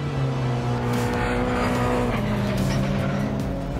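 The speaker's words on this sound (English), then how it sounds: "We're out here at Buttonwillow Raceway testing the GR Cup car for this year's season of the Toyota GR Cup North America Series" Toyota GR Cup race car lapping the track at Buttonwillow Raceway during testing, its engine droning steadily and loud with sustained harmonic tones and a brief tire squeal, no talk.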